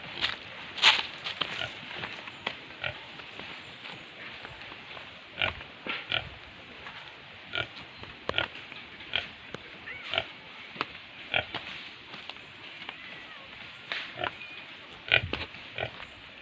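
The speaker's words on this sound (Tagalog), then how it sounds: "Ito pa mga baboy ni boss." Pigs on a farm grunting in scattered short bursts, fairly close, over a steady background hiss with occasional louder snorts.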